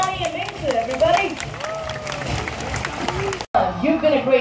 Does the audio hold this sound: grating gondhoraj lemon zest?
no